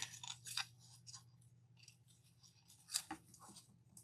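Scissors trim ribbon bow tails for a welcome door hanger, giving a few quiet, short snips against a low steady hum, with no talking.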